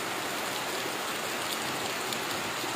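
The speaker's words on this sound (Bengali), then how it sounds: "আজ ঘন ঘন মুখর বাদল দিনে প্রচণ্ড বৃষ্টি হচ্ছে," Heavy monsoon rain falling steadily on a dark, cloudy day, a dense, even hiss of drops pouring down close by with no break and no voices.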